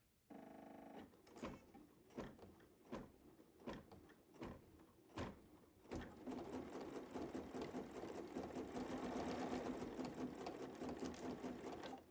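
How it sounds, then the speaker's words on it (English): A Kimberbell quilt block is stitched on an embroidery machine in its first hooping, starting with several separate mechanical clunks, then settling into a steady, close whirring hum of needle strokes that runs for several seconds. "let's just stitch our first hooping"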